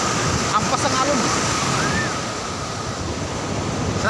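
Ocean waves break and wash up on Patar Beach in Bolinao, Pangasinan: a loud, continuous roar of surf with wind buffeting the microphone, slightly easing midway, with no voices heard.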